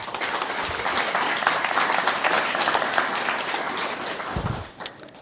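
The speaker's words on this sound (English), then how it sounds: "So one final round of applause for them." At a Guide Dogs for the Blind graduation, an audience gives a final round of applause for a guide dog team. Dense clapping holds steadily, then tapers off near the end with a couple of low bumps.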